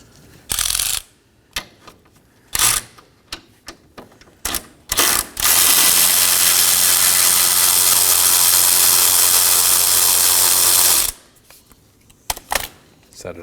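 Ratchet work on the 10mm bolt holding the horn and bracket of a 2018-2024 Chevrolet Equinox 1.5L, with quick clicking bursts, then a long, loud continuous spinning whir before the clicks resume.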